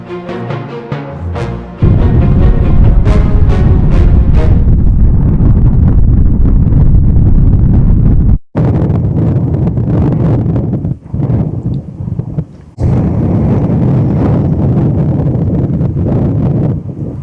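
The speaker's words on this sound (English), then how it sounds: "The wind, however, got even stronger." Strong wind on the top deck of a ship on Hudson Bay, roaring and buffeting hard against the microphone in loud, continuous gusts, with a few brief drops partway through.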